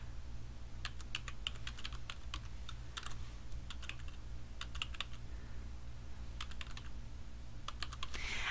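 Someone types an email address on a computer keyboard: close, light clicking keystrokes in quick irregular bursts with short pauses, over a low steady hum.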